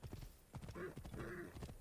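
A horse in Assassin's Creed Origins clip-clops along at a quick pace, its hoofbeats close and even, then gives a clear whinny partway through; soft talk is faintly present.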